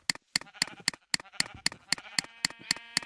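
Repeated short, bright sheep bleats from Minecraft livestock, about a dozen in quick succession at a steady rhythm, close and clear with no other sounds.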